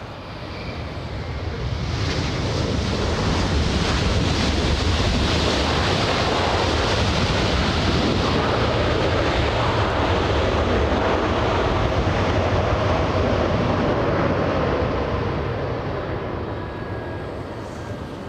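A jet airliner slows on the runway at LAX: a steady, broad roar of engines and rushing air holds loud and constant throughout, heard from a distance with no talk.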